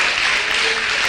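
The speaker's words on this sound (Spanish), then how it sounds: "Dele un aplauso al Señor." A church congregation applauds during a sermon, dense and loud clapping filling the whole brief moment without a break.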